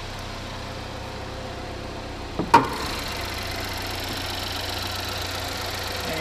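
A 2014 Chevy Equinox with a 2.4 liter engine and all-wheel drive idles with a steady, even low hum, broken by a single sharp click or thump partway through.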